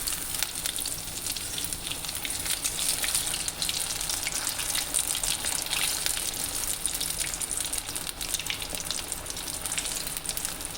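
Amritsari fish pieces frying in hot oil give a loud, steady, close-up sizzle with dense crackling that never lets up, and no one speaks.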